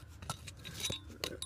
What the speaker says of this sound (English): this busted glass, I tend to throw it straight into the rubbish bag